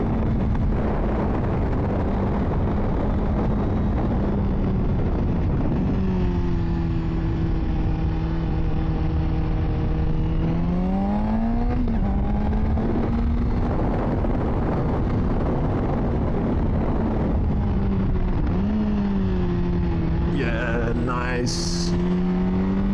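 A 2024 Honda CBR600RR engine drones loudly and steadily at close range, its pitch dipping and swelling as the sportbike is ridden through corners during cornering practice, with heavy wind buffeting over it.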